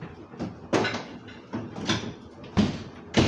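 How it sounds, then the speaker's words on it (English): A bakery oven door being shut after loading a tray trolley for viennoiserie: a series of clunks and sliding thuds, moderately near, ending in a couple of firmer bangs. "Door closed."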